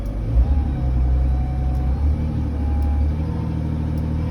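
A heavy equipment engine rumbles steadily at high RPM after the throttle is set to full, a loud, close, continuous low drone with slight fluctuations.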